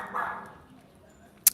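A dog barks once, close and loud, at the opening, then the sound trails off into quiet with a brief sharp noise near the end.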